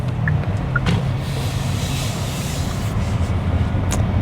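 Genesis G80 Electrified AWD electric sedan driving at speed, a steady low road and tyre rumble with soft wind noise, fairly quiet and continuous with no talking.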